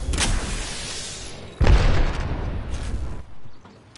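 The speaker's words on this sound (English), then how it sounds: "Grenade." A grenade blast in a shooter game: a sudden deep boom after a softer lead-in, with the rumble decaying over a second or two and other game noise around it.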